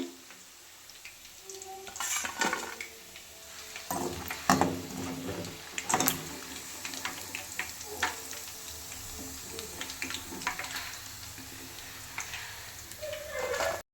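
Garlic kebab pieces fry crisp in hot oil, a steady close sizzle broken by clinks and scrapes as they are stirred and turned.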